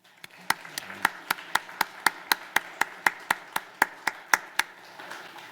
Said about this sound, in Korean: 그런 마음으로 박수해 주시면 좋겠습니다